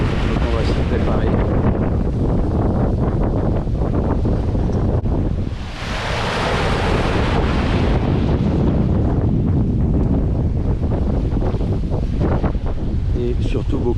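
Strong wind roars across the microphone aboard a sailboat crossing from the Bahamas to Bermuda in heavy swell. Big ocean waves crash and wash around the hull, and a surging rush of spray swells up midway, loud and continuous throughout.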